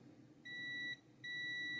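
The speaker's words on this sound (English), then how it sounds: "From here to the center, I'm getting a beep." A digital multimeter on continuity test beeps twice while probing a transistor in a Sony XR-A80J TV, two clear, steady high-pitched tones each about half a second long, close and alone in quiet.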